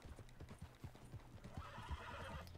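Horse hooves clip-clopping in Red Dead Redemption 2, a steady rhythmic trot at close range, with a whinny and a rising rush of wind or movement near the end.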